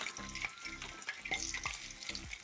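Drumstick leaf vadas frying in hot oil, a steady close sizzle and crackle with bursts of bubbling as the fritters are stirred and turned, no voices.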